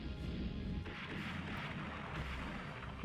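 Warships trade naval gunfire in the Rule The Waves video game during a German war with Russia, a faint rolling rumble of distant cannon booms and crashes running throughout without speech.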